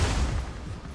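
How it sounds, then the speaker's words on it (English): Explosion in the video game Generation Zero: a dense, loud low rumble that fills the moment and slowly decays, with no voices over it. "a huge explosion just went off"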